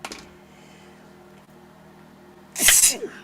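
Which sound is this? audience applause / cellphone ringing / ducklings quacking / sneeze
sneeze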